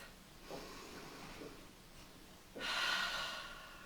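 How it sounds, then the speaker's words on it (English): A deep breath is drawn in through the nose, a soft airy inhale swelling into a louder, longer sniff near the end, close and quiet with no talking. "One more deep, big breath."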